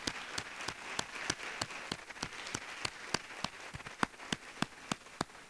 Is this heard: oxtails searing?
no